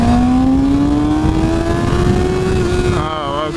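A 2013 Kawasaki Ninja ZX-6R 636 engine revs steadily under a rider on a test ride, its droning tone climbing gradually with wind roar, loud and close throughout, then wavering near the end.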